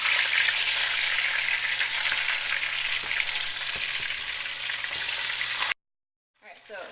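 Beef roast browning in a hot pan before going into a slow cooker, a loud, steady sizzle with faint spatter and occasional knocks, cutting off abruptly near the end.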